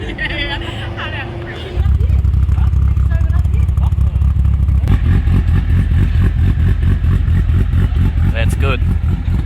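A modified Nissan Skyline R32 GTST engine starts up and settles into a loud, lumpy idle with a rhythmic choppy pulse, running close and steady for several seconds while people talk briefly nearby among other cars.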